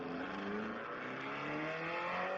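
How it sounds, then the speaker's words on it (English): Cars drag racing outside give off a muffled engine roar with rising revs, heard from indoors at a distance, steady and fairly faint throughout. "Just some kids drag racing outside."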